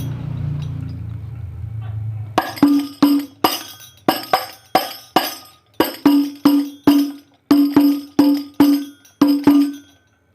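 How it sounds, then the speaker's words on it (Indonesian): A low hum gives way to sharp Al-Banjari frame drum hits in a steady, repeating rhythm, single strikes and quick doubles, loud and close. "seperti itu bunyi rumus wedoan untuk bagian munggah"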